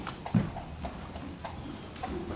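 Horse hooves clip-clop at a trot on an equestrian training ground, a faint, regular series of soft thuds with one slightly louder hit early on.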